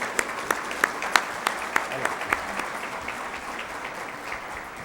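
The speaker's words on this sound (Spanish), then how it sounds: "Aplausos muy fuertes" An audience claps in a moderate, steady round of applause, with a few louder individual claps near the start before it settles.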